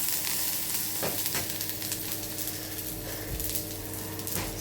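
Cumin mixture with salt frying in a pan and being stirred, a constant close sizzle with repeated scraping strokes of a spoon against the pan, no talking.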